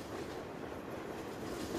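A long train rolls past in the Farming Simulator 17 game, a steady rumbling wash with faint clickety-clack of wagons, continuous and fairly close throughout, with no voices.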